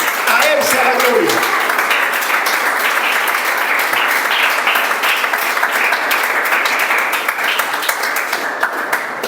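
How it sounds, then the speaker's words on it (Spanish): A church congregation applauds in steady, loud, dense clapping that fills the room and runs on for several seconds, with a voice speaking briefly near the start. "Demos un aplauso al Rey de Reyes."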